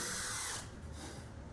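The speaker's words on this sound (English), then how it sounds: "I'm drilling 1/4 inch starting holes here" A power drill bores a quarter-inch starting hole in a wooden jig, a loud close whine that drops off partway as the bit breaks through, leaving a softer whirr.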